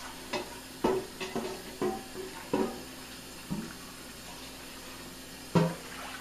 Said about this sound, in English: Going to give this a little rinse.